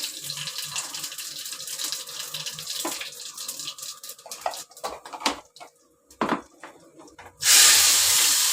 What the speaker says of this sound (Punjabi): ਹੁਣ ਆਪਾਂ ਇਹਦੇ ਵਿੱਚ ਜੀਰਾ ਪਾਵਾਂਗੇ ਤੇਜ ਪੱਤਾ ਪਾਵਾਂਗੇ ਦੋ ਲੌਂਗ ਪਾਵਾਂਗੇ